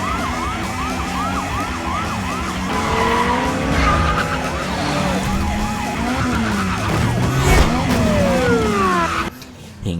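In a Baby Driver chase scene, a getaway car flees police, running red lights and smashing barriers, with loud wailing sirens rising and falling throughout, screeching tyres and engine roar, until the sound cuts off abruptly near the end.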